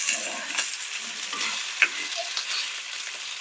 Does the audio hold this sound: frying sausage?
yes